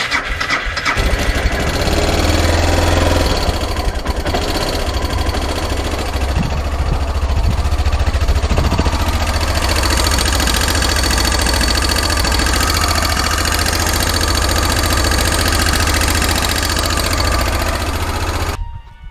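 A Suzuki DR650 single-cylinder engine idles steadily after a cam-chain tensioner replacement, loud and close, with a constant mechanical ticking clatter that hints at loose valve clearance, running throughout until the end.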